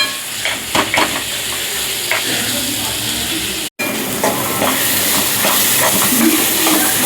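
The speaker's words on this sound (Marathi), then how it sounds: "टमॅटो छान भाजून घ्यायचे नरम होईपर्यंत" Tomatoes sizzle and fry steadily in a pan with browned onion, garlic and coconut for a spicy drumstick-pod curry, with stirring scrapes throughout and one brief cut to silence partway.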